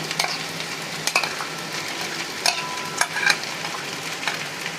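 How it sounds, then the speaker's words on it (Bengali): Steady sizzling of garlic and ginger paste frying in a hot pan with fried onions, with occasional scrapes and clicks of stirring; no talking. "এবারে আমি রসুন আর আদা বাটা দিয়ে দিচ্ছি"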